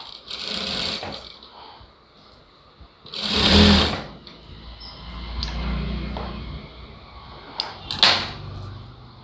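A sewing machine stitching a lined blouse runs in several short bursts of close mechanical whirring, with quieter pauses and handling knocks between runs.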